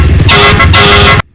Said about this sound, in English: One of my favorite features about Fortnite Rocket League is you can honk.